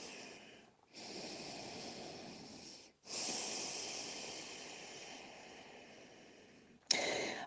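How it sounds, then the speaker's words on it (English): Slow, deep breaths during a yoga forward fold, with long airy inhales and exhales separated by brief pauses, close and quiet with no talking. "2 more breaths."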